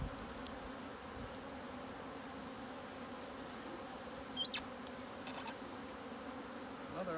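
Honey bees hum steadily around an open hive during an inspection three days after a package install, a close, continuous drone with a few individual bees passing nearer and whining louder.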